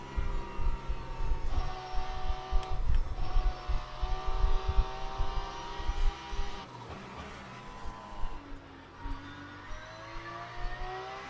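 Porsche race car engine in the Le Mans Ultimate racing game, a steady high whine that climbs through the gears and repeatedly drops back, with rumbling road noise underneath and no talk.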